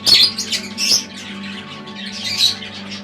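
Small birds in a little home aviary chirp and squawk in several sharp, close calls over a steady low hum, with short bursts near the start and again near the end.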